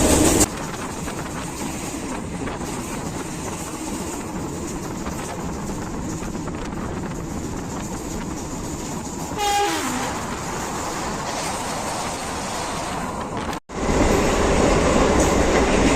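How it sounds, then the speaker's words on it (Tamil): A MEMU express train runs at about 100 km/h on an inaugural run from Bitragunta to Arakkonam, its steady loud rumble and wheel noise filling the space, with a brief horn-like tone midway and a momentary dropout near the end. "நம்ம இந்த மெமோ எக்ஸ்பிரஸ் அதோட மேக்ஸிமம் ஸ்பீட், அதாவது 100 kmph போயிட்டு இருக்கு"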